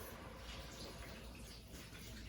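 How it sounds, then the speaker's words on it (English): Vegetable broth pours steadily into a soup pot holding broccoli, cauliflower and peas, a continuous faint liquid splash and gurgle with no talk over it. "Once I've added all my veggies in, I'm going to add the veggie broth."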